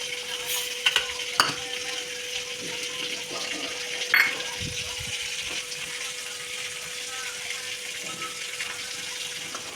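Taro pieces frying in oil in a pan for a kochu ilish dish give a steady, close sizzle, with a few sharp clinks and stirring scrapes early on and no talking.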